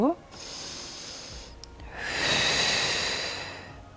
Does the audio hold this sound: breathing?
yes